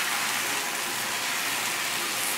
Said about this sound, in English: Once the pan is nice and hot, I'm going to slowly pour the batter.